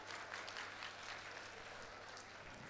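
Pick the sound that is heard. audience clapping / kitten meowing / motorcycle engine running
audience clapping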